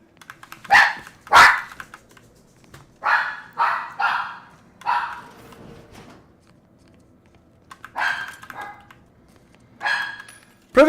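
A pet dog barking in a room, sharp nearby barks arriving in irregular bursts of one to three with quiet gaps between them, with no talk.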